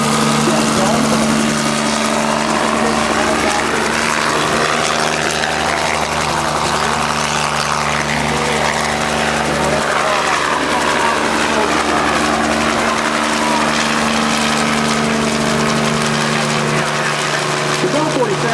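A Bell 47 helicopter runs steadily and loudly throughout a flying demonstration, its rotor thumping and engine droning without a break.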